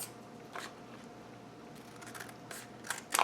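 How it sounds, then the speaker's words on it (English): Scissors trimming folded paper for a handmade advent tea calendar: a few soft, brief snips, faint and close, over a quiet room hum, ending in a slightly sharper cut. "And then we're going to trim."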